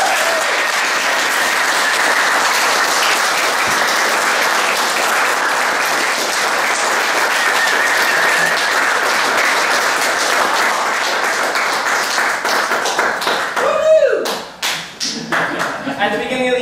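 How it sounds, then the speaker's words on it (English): Sustained audience applause for the readers at a poetry book launch, a loud, even wash of many hands clapping that holds steady before breaking up into scattered claps at the close. "we should give another round of applause for all of our readers"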